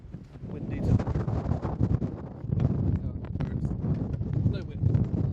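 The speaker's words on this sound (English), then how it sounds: "Jeez, this is windy too." Gusty wind buffets the microphone in loud, uneven bursts on the beach at Barra Airport, with faint talking mixed underneath.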